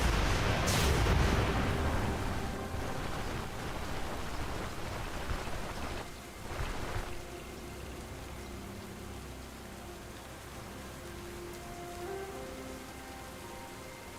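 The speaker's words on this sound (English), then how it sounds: "Alright, the rain sucks, but let's get out there anyways." Steady, dense rain hisses throughout in the game Stoneshard, heaviest in the opening seconds, with a couple of low rumbling swells before it settles into an even, continuous patter.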